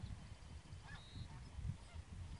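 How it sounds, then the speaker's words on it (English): Geese honking in the distance outside near a backyard vegetable garden, a few faint, scattered calls over a low outdoor rumble, with no one talking. "Oh, the geese are coming back."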